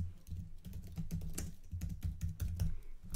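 Quick, close clicks of fingers typing on a computer keyboard, an irregular but steady patter of keystrokes with no voices over it.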